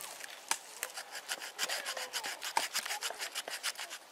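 A dull knife blade scrapes along a wooden stick in a rapid series of close, rasping strokes, raising fine fuzz from the wood, with no talking.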